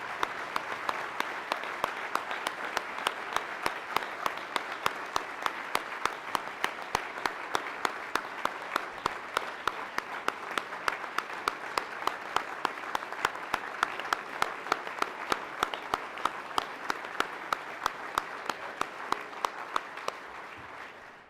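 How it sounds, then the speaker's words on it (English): A banquet crowd gives sustained, dense applause for the 2013 USSSA Hall of Fame inductees, a steady wash of many hands clapping that runs evenly for about twenty seconds before tapering off at the end. "Please join me in one more collective round of applause for this great class."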